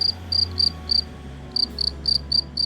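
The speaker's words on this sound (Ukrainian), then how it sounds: "Знову заспівав свіркун." Cricket chirping on an autumn night by an apple orchard, in short trilled bursts repeating steadily with a brief pause midway, clear and close over a low background hum.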